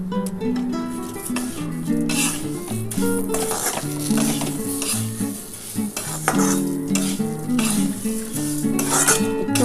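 Chopped ginger, broken green chilies and tomato sizzle in a pan for Govindobhog rice and moong dal khichuri, with steady stirring and utensil clinks over continuous background music.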